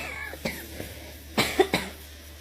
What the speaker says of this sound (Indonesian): mohon maaf ya saya batuk.